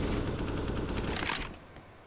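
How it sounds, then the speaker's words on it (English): Rapid automatic gunfire from a Counter-Strike esports match fires through a smoke grenade as a dense, continuous burst for about a second and a half, then cuts off abruptly into near silence. "bullets were just coming through that smoke grenade"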